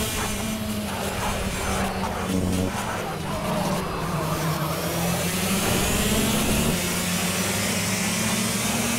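A 250cc superkart engine in the Project CARS racing game buzzes steadily against its rev limiter, a sustained mid-pitched whine with slight pitch wobble, continuous and moderately loud throughout.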